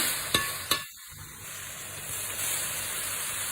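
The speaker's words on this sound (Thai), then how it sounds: "ใส่หมูลงไปเลยจ้า ผัดหมูให้สุกก่อน" Pork stir-fries in a hot pan: two sharp clanks of the utensil at the start, then a steady hiss and sizzle that holds close and even to the end.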